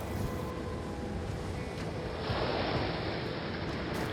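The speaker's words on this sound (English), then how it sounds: "Quite exciting with that wind blowing. It is. Big waves." Strong wind buffets the microphone while big waves slap and wash across a lake, a continuous rough roar that swells partway through, with no voices.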